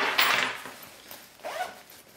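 Zipper on a bag's pocket being worked open or shut, two short rasping pulls separated by a pause, close and fairly quiet.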